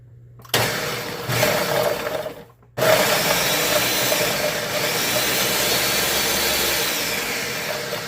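A food processor pulses basil pesto ingredients and chops the nuts, giving loud, steady motor whirring in two bursts: a short pulse, a brief stop, then a longer continuous run.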